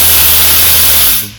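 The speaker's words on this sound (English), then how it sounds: "foam comes out, little spray comes out" Close, loud hiss of a spray tool releasing foam and mist, steady for about a second before tapering off.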